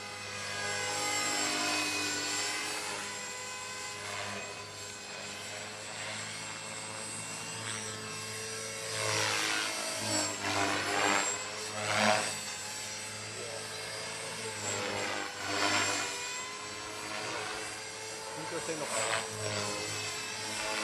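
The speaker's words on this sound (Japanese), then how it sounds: "ヘリが いつものトルネードで、" A helicopter flies a tornado manoeuvre, its rotor thrumming loudly and steadily throughout with swelling, sweeping passes. Voices talk over it.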